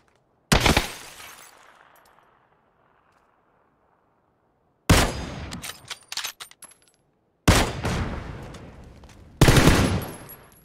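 PUBG gunfire: a sharp opening burst at close range that fades out, then a stretch of silence before three loud clusters of rapid automatic shots, the last one dense and sustained.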